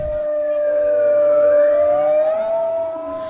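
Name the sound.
siren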